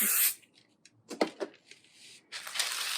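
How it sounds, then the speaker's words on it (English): Short hissing bursts from a spray can of adhesive sprayed onto fabric, one at the start and a longer one at the end, with soft handling noises and rustles between. "Spray the rest of it."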